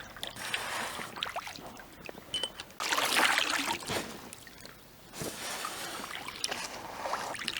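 Paddle strokes from an inflatable Andes canoe on a river, with water splashing and trickling at close range in uneven bursts and a louder surge partway through.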